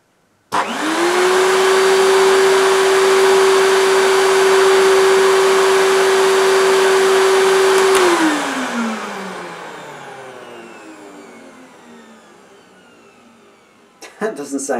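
An ETA Dynamix cylinder vacuum cleaner switches on with a sudden loud whoosh and a steady motor whine, runs for about seven seconds, then winds down and fades. A few clicks follow at the end.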